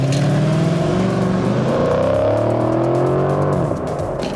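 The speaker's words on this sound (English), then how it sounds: "now you wanna bring up your RPM" A Dodge Challenger SRT8 revving at the start line of a drag strip, engine note climbing and holding loud and close, then easing slightly near the end, with no talk over it.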